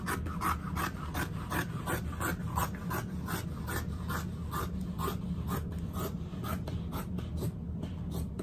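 Scissors cut through fabric for a sewing bag in a rapid run of rhythmic crisp snips, close and steady, roughly two per second, with no talking.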